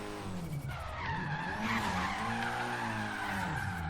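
A Nissan 240SX S13 slides sideways in Forza Horizon 3, with tire skid and squeal over a rising, wavering engine note throughout, loud and near with no voices.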